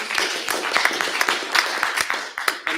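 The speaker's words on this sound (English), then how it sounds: "a round of applause for Aleida" Applause from a live event audience for a speaker, a dense crackle of many hands clapping steadily throughout with uneven bursts, fairly close and no talk over it.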